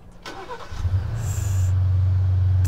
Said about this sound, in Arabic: ناخذ بشكل سريع ووريكم تشغيل عن بعد